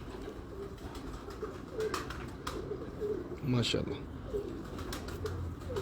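Pigeons coo softly in short low bursts at a pigeon keeper's loft in Multan, heard beneath steady men's conversation with a brief chirp or two.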